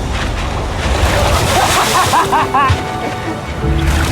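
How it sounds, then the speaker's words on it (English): Big ocean waves rolling toward a small boat near an island, a steady wash of surf and wind noise with sloshing water, while voices talk over it. "Those waves look really big over there. And they're coming right at us."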